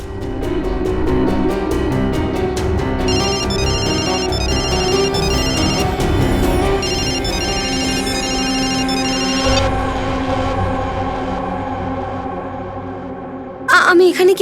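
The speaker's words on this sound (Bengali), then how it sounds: "তোমার ফোন থেকে পায়েলকে রিং করো তো।" A mobile phone ringtone rings close by as a repeating electronic melody that carries on for several seconds. People talk over it.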